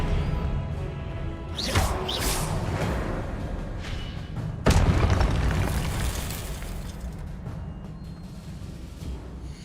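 An Expelliarmus spell is cast in Hogwarts Legacy on PS5, heard as a whooshing burst and then a sharp, loud boom with a crackling tail over continuous dense game ambience.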